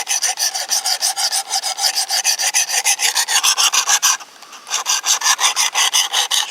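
Knife blade drawn across a 320 grit stone on a Work Sharp Precision Adjust sharpener, quick regular rasping strokes in a steady rhythm, close and loud, with a brief pause before the strokes resume.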